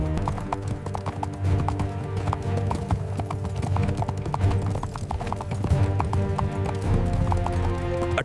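Horses galloping with riders on horseback, a dense run of hoof clip-clops over a low rumble and musical backing, with an occasional whinny, steady and fairly loud throughout.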